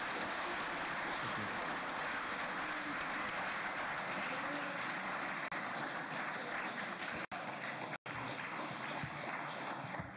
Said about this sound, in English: How about another round of applause for our moderators